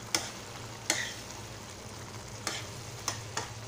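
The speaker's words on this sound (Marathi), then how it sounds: "आता मी तुपात भाजलेला रवा घालत आहे। आता व्यवस्थित ढवळून घेणार आहे" Ghee-roasted semolina (rava) being stirred in a pan for upma, quiet soft scraping with a low sizzle, punctuated by about five sharp spoon clicks against the pan at irregular intervals.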